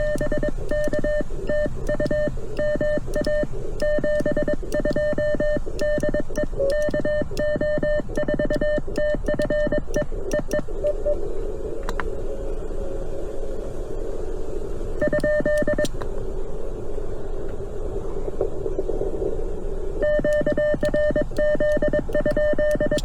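An amateur radio signal from Massachusetts on a small portable radio rises and fades in strength (QSB) during a Parks on the Air activation, with steady tones and crackling static swelling and dropping away several times.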